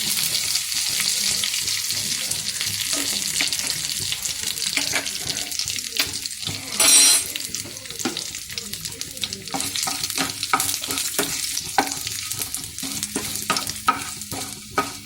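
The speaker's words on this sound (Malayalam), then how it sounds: "ഇതിലേക്ക് കറിവേപ്പിലയും ചുവന്ന മുളക് ഇടും." Curry leaves and red chilies go into hot oil in a frying pan while making potato masala bonda, keeping up a steady loud sizzle with stirring clatter throughout and a brief sharper burst partway through.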